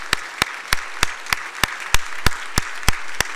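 A church congregation at a Christmas thanksgiving service claps in steady unison, roughly three sharp claps per second, over a soft crowd murmur and blessing children as they leave.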